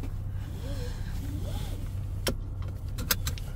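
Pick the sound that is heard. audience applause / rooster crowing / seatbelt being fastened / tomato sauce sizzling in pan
seatbelt being fastened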